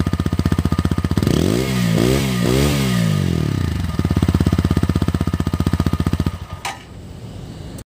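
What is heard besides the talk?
TVS Apache RTR 160 4V motorcycle exhaust note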